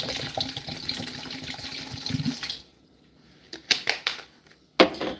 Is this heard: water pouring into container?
yes